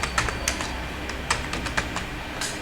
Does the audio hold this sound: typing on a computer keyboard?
yes